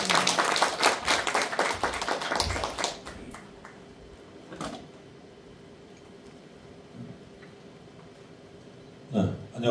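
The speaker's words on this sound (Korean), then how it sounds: "큰 박수로 환영해 주시면 감사하겠습니다." Audience applause in a community hall at a Korean social welfare forum, a brief burst of clapping that fades quickly, leaving quiet room tone with a few scattered claps and taps.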